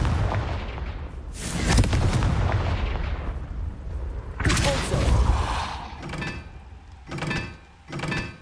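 Confringo blast spell from Hogwarts Legacy, several heavy booming explosions with thuds and rumbling debris, one long blast early, then a big burst midway and two shorter blasts near the end.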